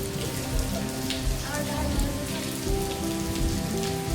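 Heavy rain pours steadily on Diwali day at an ashram, a dense continuous patter on surfaces with a faint murmur of background sounds throughout.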